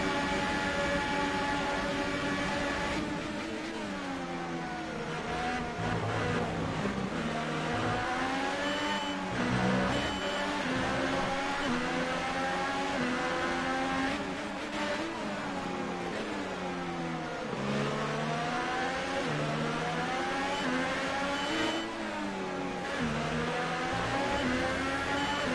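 Formula 1 cars in the video game F1 2018 scream through the Belgian race, a McLaren engine whining loudly and continuously with repeated rises and drops in pitch as it shifts gears and revs near other cars.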